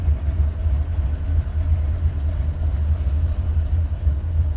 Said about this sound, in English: It sounds like a lifter.